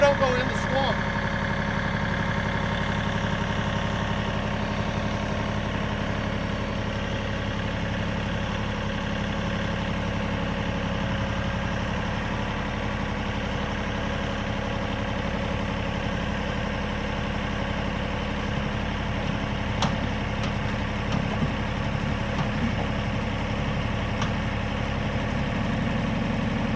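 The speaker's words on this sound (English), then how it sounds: "the swamp rake is working!" A swamp rake machine's engine runs steadily with a low, even drone that holds for nearly half a minute. It sounds moderately loud with only minor fluctuations.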